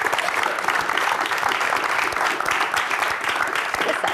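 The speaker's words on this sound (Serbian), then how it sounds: "Molim vas jedan aplauz." A TV studio audience of young dancers applauds, a steady, dense wash of clapping that holds at even loudness throughout without pause.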